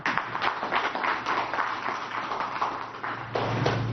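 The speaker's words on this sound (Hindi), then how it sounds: "तो मैं सबसे निवेदन करूंगा कि आपके लिए तालियां हो जाए।" Audience applause at a Kumbh gathering with revered saints at a Russian cultural centre: a dense, steady patter of many hands clapping, filling the hall evenly for the whole stretch.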